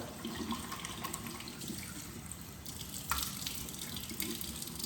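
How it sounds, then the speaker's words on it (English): Tap water runs steadily into a sink during facial washing, a soft continuous splashing hiss with a few brighter splashes as hands move through the stream. "you can go ahead and add some water"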